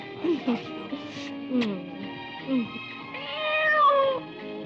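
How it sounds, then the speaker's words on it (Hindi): A house cat meows several times in short, clear calls, with a longer drawn-out meow near the end, close and fairly loud over a quiet indoor background. "अरे बिल्ली?"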